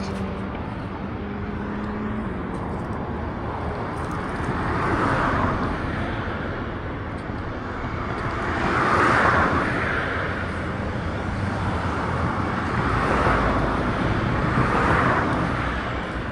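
Motorcycle engines whine in the distance near Suzuka Circuit, Japan, rising and fading in several passes over steady traffic noise.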